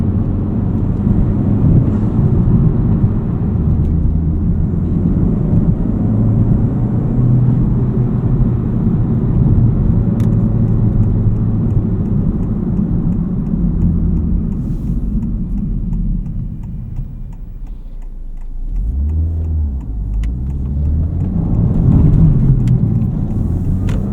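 A Honda Civic Type R FL5 with a custom JST tune, making about 350 wheel horsepower, drives on grippy Bridgestone RE-71RS track tires, giving a loud continuous low engine drone and road rumble that swells briefly near the end.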